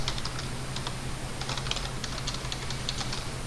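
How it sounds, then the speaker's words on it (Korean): Quick keystrokes on a computer keyboard, typing A and Enter in CAD software with mouse clicks mixed in, a short close cluster of taps under a steady background hum. "A 엔터 치시고 3점을 순서대로 클릭해 보시면"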